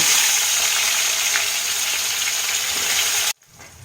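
Bitter gourd pieces frying in hot mustard oil, a loud, continuous sizzling hiss that holds steady for several seconds, then cuts off abruptly to near silence.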